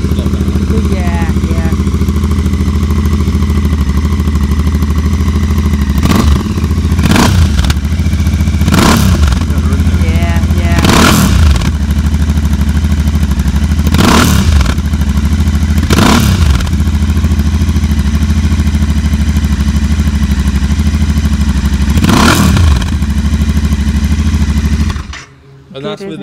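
A Royal Enfield Continental GT on its stock exhaust with the baffles fitted idles with a loud, steady thump, punctuated by about eight sharp throttle blips, before the engine cuts at the end; faint talk sits under it.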